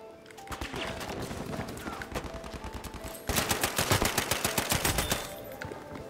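Grease gun firing in Battlefield 5: repeated bursts of rapid automatic fire, louder and denser in the second half, set against ongoing battlefield noise.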